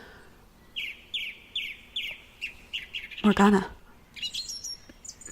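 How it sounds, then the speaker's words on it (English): Birdsong from the video game The House in Fata Morgana: a steady series of short, bright chirps repeating at an even pace, with a single spoken word breaking in partway through. "These bird sounds are better than the Ace Attorney bird sounds."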